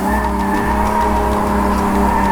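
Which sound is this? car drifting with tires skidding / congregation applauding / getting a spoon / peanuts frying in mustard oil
car drifting with tires skidding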